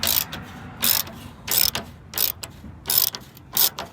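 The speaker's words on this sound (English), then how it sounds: "I'm gonna get my ratchet, take these two bolts out, and then the one on the bottom" Ratchet wrench loosening the bolts on a headlight housing of a third-generation truck, heard as repeated bursts of rapid, sharp clicking separated by short pauses, close and clear with no talking.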